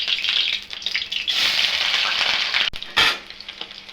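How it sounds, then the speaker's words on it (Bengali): Pieces of paneer fry in hot oil in a wok with a loud, close sizzle that swells and crackles. A couple of sharp knocks from the utensil sound near the end, and there is no talking. "আগে আমি পনির কয়টা ভাজা নিব"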